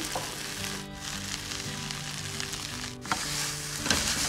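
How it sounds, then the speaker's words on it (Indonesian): Water spinach stir-fries in a hot pan with chili and garlic, a loud continuous sizzle close by with a faint steady hum underneath and a couple of sharp clicks near the end, with no speech. "Terus dimasak sampai harum, kemudian masukkan kangkung."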